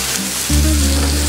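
Brandy flambéing in a hot steak pan, with a quiet crackle suddenly bursting into a loud, steady sizzle and hiss close by.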